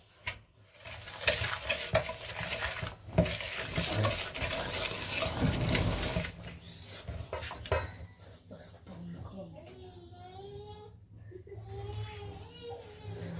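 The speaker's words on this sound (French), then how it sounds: "on mélange nos 200 g de sucre à nos œufs" Brown sugar being whisked into six egg yolks for tiramisu, a busy scraping and stirring in a bowl over the first six seconds, then someone talking over quieter mixing.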